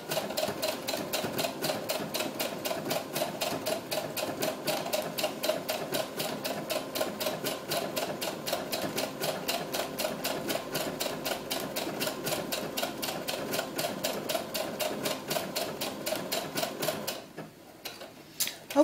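A sewing machine stitches lace onto a doll-sized ball gown in a fast, steady mechanical rattle of even ticks up close. It stops abruptly near the end, followed by a couple of small clicks.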